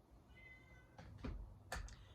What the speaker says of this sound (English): There's my kitty, Dobbs.